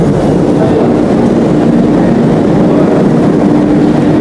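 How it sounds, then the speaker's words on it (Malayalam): A Moscow metro train in a deep underground station gives a loud, steady rumble of wheels and carriage noise that carries on without a break throughout. "നമ്മൾ മെട്രോ സ്റ്റേഷനിൽ ഇറങ്ങിയിരിക്കുകയാണ്."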